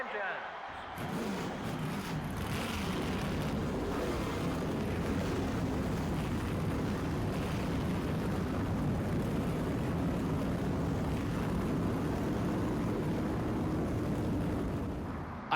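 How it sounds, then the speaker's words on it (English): Race car engines in the NASCAR Thunder 2004 video game roar to life in Atlanta, a dense, steady rumble of many stock cars that starts abruptly after a second and holds loud and constant throughout. "Gentlemen, start your engines."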